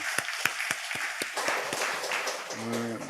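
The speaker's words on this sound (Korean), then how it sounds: "하나님께 영광의 박수를 한번 치겠습니다." Congregation clapping during a church worship service, starting as a few loud, separate claps and swelling into steady, dense applause, with a sustained musical tone entering near the end.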